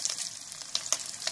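Bacon frying with tomatoes in a hot, greasy pan, giving a close, steady crackling sizzle with sharp pops for about a second and a half, no talking.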